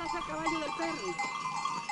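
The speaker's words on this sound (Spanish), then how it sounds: "No, son ovejas." Sheep bleat repeatedly in a mountain pasture in the Picos de Europa, several wavering calls overlapping at close to moderate range, with neck bells jingling steadily behind them.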